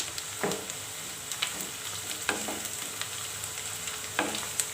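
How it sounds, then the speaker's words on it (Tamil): Garlic sautéing in a pan while green chillies are added, for an okra tamarind curry: a soft, constant sizzle broken by irregular spoon scrapes and taps against the pan, close and fairly quiet, no voices. "பூண்டு நல்லா வதங்கிடுச்சு. இந்த ஸ்டேஜில் 2 பச்சை மிளகாய் சேர்த்துக்கலாம்."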